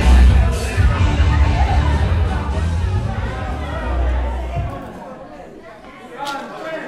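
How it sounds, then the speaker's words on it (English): An arena crowd at a wrestling show murmurs and chatters while waiting for a match, a broad noisy hubbub that fades somewhat toward the end, with an announcer's voice over it. "the crowd's waiting to see what's going to go on here"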